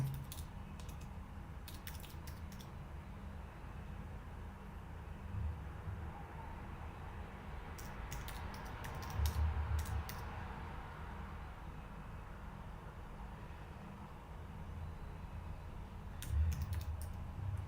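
Quick bursts of typing on a computer keyboard come in three short clusters, close and clear, separated by a quiet steady background hiss.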